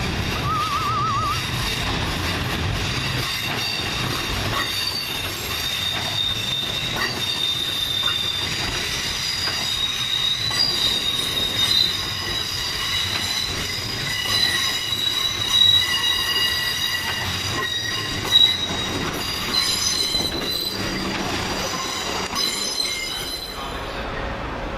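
A South West train departing a station on the Waterloo service via Havant and Guildford, its wheels squealing loudly in sustained high-pitched whines over rumbling rail noise, with no talk.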